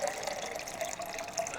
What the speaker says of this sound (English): I suggest you to put the full water tank